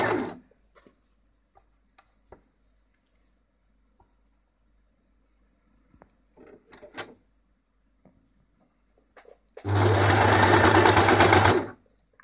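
An overlocker serger stitches a T-shirt collar onto fabric in one fast, steady burst near the end, preceded by quiet handling clicks and fabric rustling.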